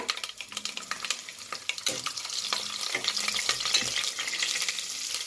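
Onions fry in hot oil with mustard seeds, cumin, curry leaves and dried and green chillies, giving a close, busy sizzle broken by repeated scraping stirs of a spatula.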